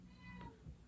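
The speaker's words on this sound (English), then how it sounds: "That's my cat. My cat is at the door." A cat meows at a door during an indoor home recording, one short faint meow rising out of a low background hum.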